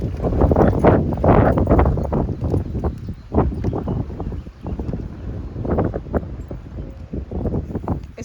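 Wind blows through a garden and buffets the microphone in heavy, irregular gusts of low rumbling noise that swell and fade over several seconds, with no speech.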